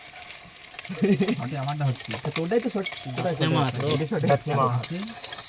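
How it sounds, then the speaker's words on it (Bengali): Fish fries in oil with a steady sizzle and crackle, while a person talks over it for most of the stretch. "প্রথমবারের মাছ ভাজা একটু মুচমুচে করে ভাজি"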